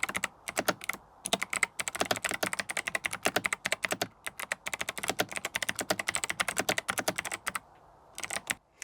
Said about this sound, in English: for those of you that want to hear the keyboard sounds without me talking over it, I'll just play a quick segment of me typing now.